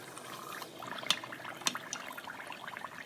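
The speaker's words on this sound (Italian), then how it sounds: "i cannoli vanno fritti fino a doratura" Sicilian cannoli shells fry in hot oil, giving a faint, steady sizzling hiss broken by two sharp pops.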